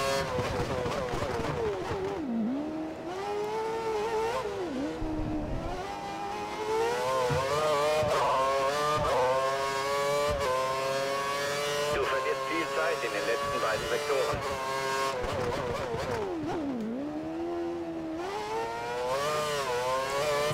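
An F1 2013 race car lapping Spa-Francorchamps in a video game, its high-pitched engine rising and falling through gear shifts and braking dips, loud and continuous, with someone talking over it.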